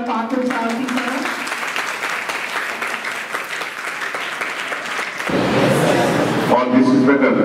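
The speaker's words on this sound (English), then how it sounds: "We would like to have a great round of applause for Partha Sarathi sir." An audience breaks into sustained applause at a motivational leadership talk for budding entrepreneurs, a dense steady clapping that swells louder toward the end, with a voice briefly audible over it.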